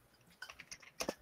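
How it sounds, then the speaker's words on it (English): Faint, close keyboard typing: a short burst of uneven key clicks, the last two strokes louder, with no talk. "I can hear someone typing it out."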